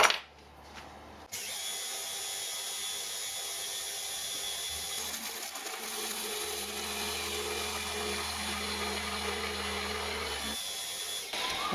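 Timber pieces are machined in a workshop mill, giving a steady whirring cutting drone that runs for most of the clip, with quieter moments at the start and end.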